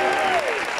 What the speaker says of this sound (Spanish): Aplausos para ellos, por favor.